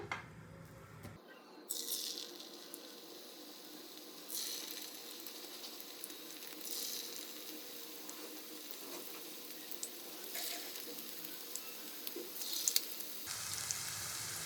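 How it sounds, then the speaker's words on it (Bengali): Chicken pieces drop one by one into hot oil for dragon chicken, setting off a steady bright frying crackle with several louder bursts as each piece goes in, close and continuous with no talking. "এবার আমি এক এক করে চিকেনগুলোকে ছেড়ে দেবো। খুব ভালো করে ভেজে নিতে হবে।"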